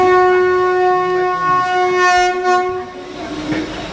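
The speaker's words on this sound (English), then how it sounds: "is a premium intercity train now ready to depart from Lonavala on its way down the Bhor Ghat" The horn of the Deccan Queen passenger train sounds in a long steady blast at Lonavala, loud and near, with rumbling rail noise underneath as it begins to move off.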